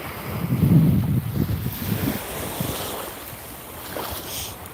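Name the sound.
ocean waves with wind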